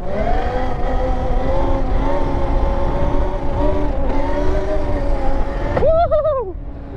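An electric dirt bike with a clutch and gears accelerates through first and second gear, giving a steady loud motor whine that jumps in pitch at the shift, with no talk.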